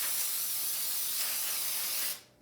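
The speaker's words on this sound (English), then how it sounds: "And then I'll go ahead and spray that as well with Pam cooking spray." An aerosol can of Pam cooking spray is sprayed onto a parchment-lined jelly roll pan, giving one steady, close hiss for about two seconds before it cuts off abruptly.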